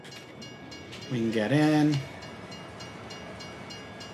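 A train in Farming Simulator 22 sounds a short two-toned horn blast lasting about a second, loud over a low rumbling background, while someone speaks briefly afterward.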